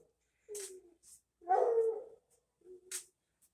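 Dogs at a shop give a few short barks and whimpering yelps in separate bursts, moderately close and fairly quiet, with no talk over them.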